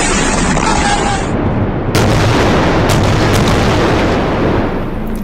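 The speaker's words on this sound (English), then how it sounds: "You are looking at Israeli missiles exploding in Gaza overnight." Israeli missiles exploding over Gaza at night, a loud, continuous roar of blasts and rumbling booms, with a sharper burst about two seconds in.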